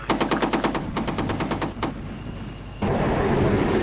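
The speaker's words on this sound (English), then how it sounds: "And this anti-aircraft gun is firing." Rapid bursts of anti-aircraft gunfire from a ground emplacement in the flight-combat game F22 Total Air War, a quick string of sharp evenly spaced shots, a pause, one more shot, then a steady louder rumble of engine or battle noise.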